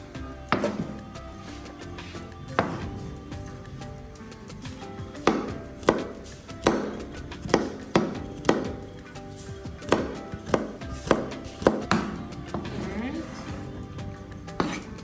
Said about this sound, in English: So I'm going to cut up the garlic now.